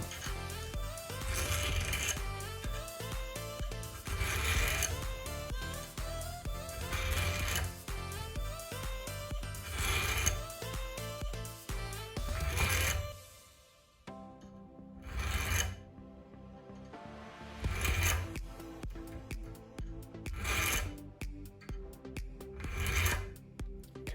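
Hand-filing the end gap of an LS engine piston ring gives repeated close, rasping strokes in steady groups, with short pauses between bursts and near silence around the middle.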